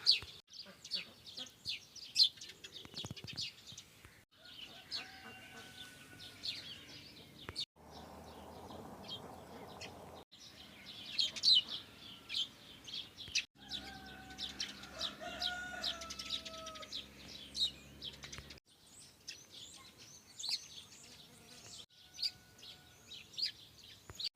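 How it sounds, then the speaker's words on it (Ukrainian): Birds calling and chirping on and off in the open air on a farm, mixed with clucking fowl and a rooster crowing, no talk. "Пташечки щебечуть дуже гарно."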